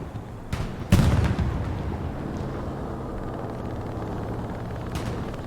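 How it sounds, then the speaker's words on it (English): In an online war game match, an anti-tank cannon fires a sharp, heavy shot with a rumbling tail that fades slowly into the battle ambience. A lighter report comes just before it and a faint one later. "They're firing onto their point with an AT cannon from behind."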